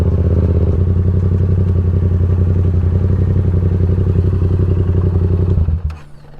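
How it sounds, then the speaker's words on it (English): Ridiculously loud Yamaha MT-07 motorcycle pulling into a campsite, its deep, throbbing exhaust rumbling close by without a break for several seconds before it cuts off abruptly, leaving a brief clatter and then quiet. "All these people fantastically happy to see me turn up with my ridiculously loud bike."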